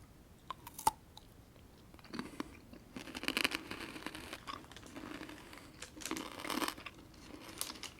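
Crunching bites and chewing on an international candy bar with a charcoal-like taste, close and quiet, in irregular bursts with a sharp snap near the start and denser crunching toward the end.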